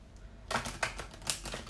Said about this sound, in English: So I'm going to just give these a quick shuffle for you.